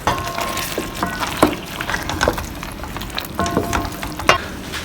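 Zucchini hitting a hot pan, a loud close sizzle with crackling spits and stirring scrapes, steady frying throughout with no talk.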